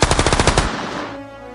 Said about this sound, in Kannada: ಕೇಳಿ ನಾನು ಬುಲೆಟ್ ಸೌಂಡ್.